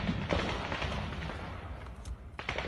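Shelling or an explosion striking close to the camera in combat footage from the Russo-Ukrainian war: a dense, roaring broadband blast, loud and near, with sharp bursts of crackle at the start and again toward the end.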